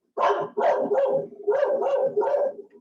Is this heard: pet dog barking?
yes